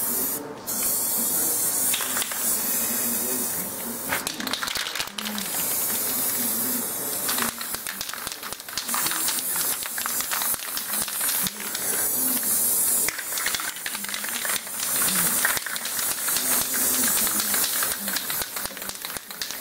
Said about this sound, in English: We got a bunch of guys with spray paint and they're going to start spraying it in.